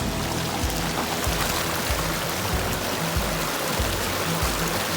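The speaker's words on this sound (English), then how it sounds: "There's that stream I was hearing." A mountain stream in the High Uintah Wilderness of Wasatch National Forest rushes steadily nearby, a loud broadband flow with a faint rhythmic thumping underneath.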